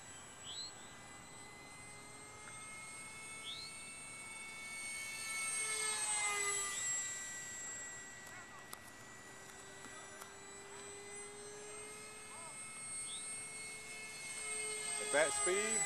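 Small Tech One Neptune RC flying wing with its electric motor at quarter throttle, a steady faint buzzing drone that rises and falls as the plane passes overhead outdoors, with occasional talk nearby.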